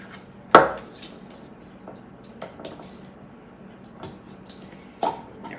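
Metal spoon scooping garlic out of a jar, a few sharp clinks and taps against the glass with quiet scraping in between, close and isolated.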